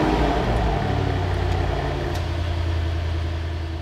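A Mercedes car engine idles with its exhaust valves open, a deep, throaty rumble, steady and fairly loud, with a faint ticking texture and no talking.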